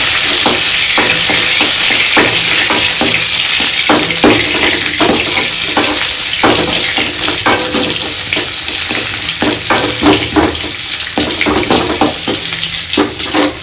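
Onions and dried red chillies sauté in a hot pan for a mushroom kulambu, a steady loud sizzle broken by frequent sharp clicks and scrapes of a spoon stirring against the pan, with no talking.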